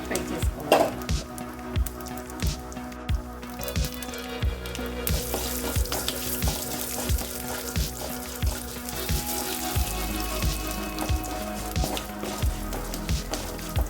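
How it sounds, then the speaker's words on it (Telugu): Urad dal, chana dal, mustard seeds, cumin and crushed pepper fry in hot oil, a steady close sizzle with crackling seeds and a rhythmic series of sharp ladle taps against the pan. "మినప్పప్పు, ఆవాలు, కొద్దిగా జీలకర్ర, కొద్దిగా క్రష్ చేసి పెట్టుకున్న మిరియాలను వేసేసి బాగా ఫ్రై చేసుకోవాలి."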